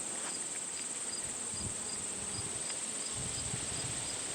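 Insects hum and buzz steadily during a beehive inspection outdoors, a constant layered drone with a high, insistent whine over it and faint rustles underneath.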